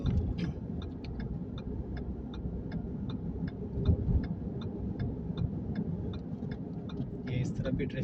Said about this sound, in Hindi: ये इस तरफ भी ट्रैफिक जाम हुआ है सामने